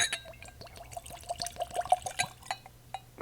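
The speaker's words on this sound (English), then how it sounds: "Now, how do you pour this monstrous thing?" Sexton single malt Irish whiskey is poured from a large bottle into a glass, giving close, quiet gurgles and splashy glugs in an uneven rhythm, with no talking.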